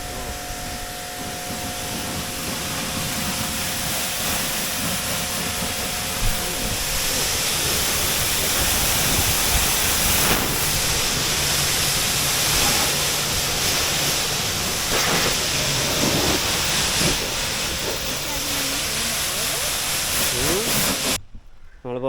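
An Agaro pressure washer sprays water to wash a car, making a loud, close, steady hiss that runs almost without a break before cutting off abruptly near the end.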